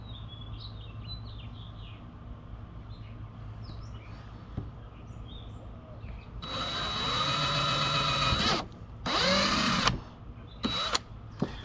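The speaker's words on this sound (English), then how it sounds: "let's just go ahead and drill the second one." A power drill whirs loudly in two bursts, drilling pilot holes for an anchor trolley on a Hobie Outback kayak, a longer one followed by a shorter one, after a quiet stretch of faint birdsong.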